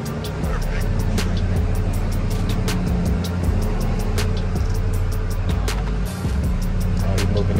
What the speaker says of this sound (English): okay, he started the Bentley